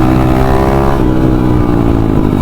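An enduro dirt bike fitted with a new engine revs loudly and close, a dense buzzing roar that steps down in pitch partway through and carries on unbroken, with no voices over it.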